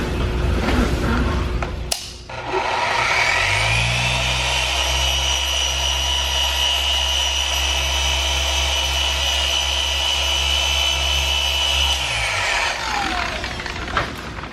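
A machine polisher with a yellow pad and polishing cream works the coated paint of a Porsche GT3 RS, spinning up to a steady, loud whirring whine that holds for about ten seconds before winding down.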